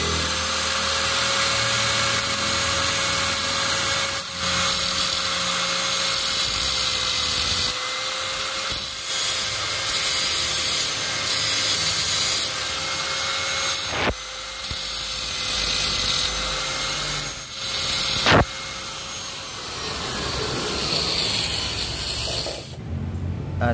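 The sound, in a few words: grinder grinding down a motorcycle magnet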